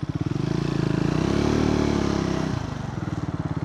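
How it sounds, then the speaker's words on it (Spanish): A Triumph Scrambler 400 motorcycle revs up loudly and close by, its pulsing engine note rising and holding, then dropping as the rider shifts into third gear, after which the throbbing idle-like beat returns. "Ahí metí tercera, debí de bajar a segunda, pero respondió bien."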